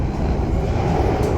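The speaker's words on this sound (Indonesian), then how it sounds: "suara bising dari kolong kereta dan juga dari sambungan itu masuk ke dalam kabin" Steady, loud rumble of a passenger train's undercarriage and rail joints heard from inside the cabin on an Indonesian route between Surabaya and Jogja, a continuous broadband roar with no talking.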